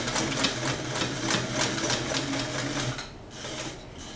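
Vintage Sears Kenmore heavy duty sewing machine stitching steadily through a thick multi-layer seam, a close, loud, even mechanical chugging with a rhythmic pulse that eases off near the end, with no talk.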